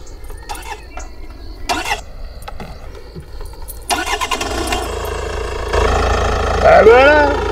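A car engine cranks and starts after a makeshift repair, with short bursts of cranking followed by the engine catching and running louder toward the end, amid talk.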